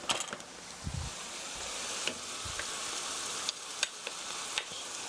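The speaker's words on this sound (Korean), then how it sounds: "케첩도 신맛이 날아가게 살짝 볶아주세요." Tomato ketchup stir-fries in a pan with a soft, steady sizzle and crackle, punctuated by a few light scrapes and taps of a spatula, quiet and close with no voices.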